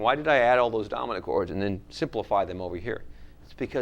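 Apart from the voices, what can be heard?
No everyday noise stands out behind the speech.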